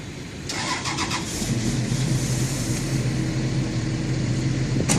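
A Hyundai 290 LC 7A excavator engine cranks with a rapid rattling churn, sputtering but failing to catch, loud and close with no talking over it.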